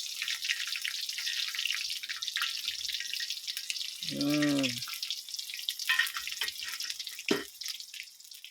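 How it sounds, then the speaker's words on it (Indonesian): Soft sizzling of leftover rice filling for arem-arem frying in a pan, a steady faint hiss with a few clinks and a short tonal squeak near the middle. "Tak goreng sik pemirsa yo."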